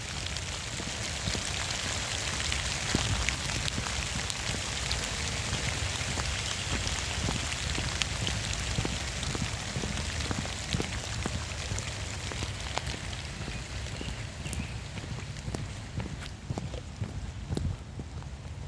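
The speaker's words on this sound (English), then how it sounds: "Okay, it's starting to rain." Steady rain falls during a spring storm in Cleveland, a continuous dense hiss of drops spattering nearby surfaces with a few sharper individual drips, no voices present.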